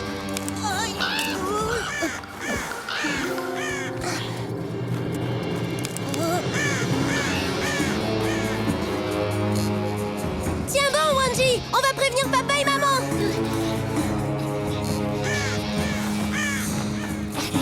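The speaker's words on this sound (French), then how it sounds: "Oh mais laissez-nous tranquilles, les oiseaux, là." Cartoon birds cawing harshly and attacking, repeated loud crow-like caws over dramatic music while characters speak French in alarm.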